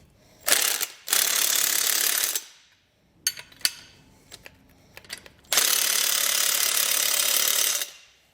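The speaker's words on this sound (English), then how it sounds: "you can come back with a 15/16 size socket and wrench and snug these down" Socket wrench ratchet snugging 15/16 hitch bolts on a B and W Turnoverball underbed gooseneck hitch install, two long bursts of fast close clicking separated by scattered metallic taps and clanks.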